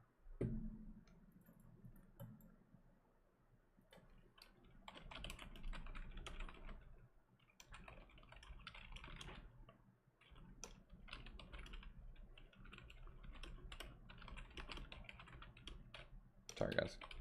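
Computer keyboard typing, rapid clicking keys in irregular bursts, close but quiet, with a faint voice speaking in between.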